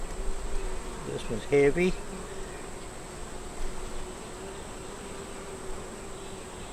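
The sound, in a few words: honey bees buzzing during hive inspection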